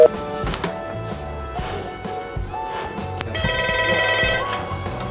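A telephone rings at a fire station command post during a call, with a few bright electronic ring tones over a noisy room background and some faint voices.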